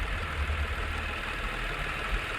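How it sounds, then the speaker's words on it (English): A Nissan Maxima engine idling with its faulty cooling fan running, a steady low rumble and whir holding at moderate volume throughout with no talking. "So after 15 minutes of engine idling, the fans kicked in."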